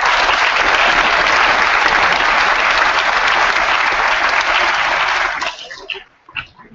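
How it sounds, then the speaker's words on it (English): A crowd claps loudly and steadily for youth football coaches at a live commitment event, the dense applause fading out near the end. "I want everybody to give Tracy, those coaches, Dan, those guys that I've seen here, a round of applause"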